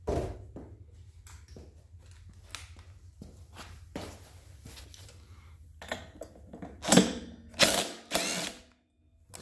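Nut being unscrewed from the center of a cover on an old Snapper mower, a series of small ratcheting clicks and scrapes that grow into louder clanks near the end before falling silent.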